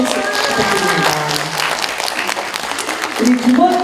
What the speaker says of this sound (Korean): 다시 한번 우리 시인님께 박수 부탁드립니다